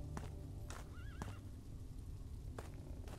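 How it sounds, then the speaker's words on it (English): A horse whinnies with a short wavering neigh over a steady low rumble in the Witch Hunt game, with faint clip-clop of hooves and no talk. "It's just a horse."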